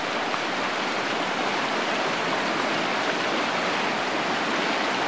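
A brown, debris-filled river rushes past in a steady, dense wash of flowing water, loud and continuous, with no voices.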